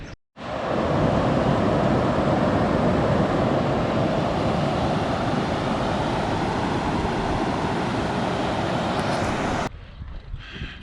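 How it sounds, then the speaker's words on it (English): Heavy water rushing over a weir on the River Taff after a lot of rain, a loud, steady, broad roar heard close by that cuts away abruptly near the end. "There's a lot of water coming over the weir today."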